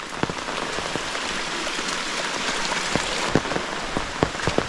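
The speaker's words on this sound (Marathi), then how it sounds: "नुसता रिमझिम रिमझिम रिमझिम चालूच आहे" Steady light rain patters on a surface, a soft continuous hiss dotted with distinct drips and drops.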